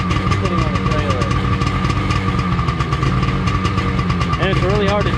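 A 1996 Sea-Doo XP jet ski engine idles on a trailer, a steady close rumble with a slightly uneven RPM, while someone talks over it.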